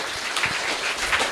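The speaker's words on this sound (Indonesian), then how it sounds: "Tepuk tangan yang meriah untuk kita semuanya." Applause at the close of a segment of a regional Indonesian television discussion program, a steady broadband patter of clapping from a studio audience, fairly faint and continuous through the short stretch.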